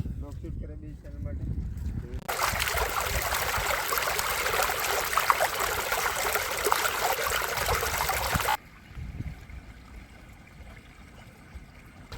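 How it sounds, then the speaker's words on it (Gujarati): Heavy rain pours down at a campsite, a dense hiss that starts abruptly, holds for several seconds and then cuts off, while people talk over and around it. "બાકી વરસાદ ચાલુ થઈ ગયો છે ખતરનાક"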